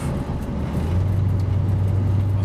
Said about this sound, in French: nous voilà aujourd'hui au volant d'une Mercury Cougar cabriolet année 69